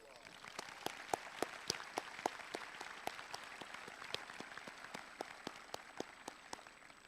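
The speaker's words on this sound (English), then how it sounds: "So let's give them a huge round of applause." Applause at a 2022 Morgantown High School graduation ceremony: a steady wash of clapping from a distant crowd, with sharper individual claps popping out in a fairly even rhythm throughout.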